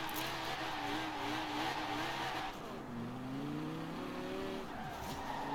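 A drift-built car in Forza Horizon 4 slides with sustained tire squeal over a droning, shifting engine note, continuous and fairly distant-sounding, with no talking.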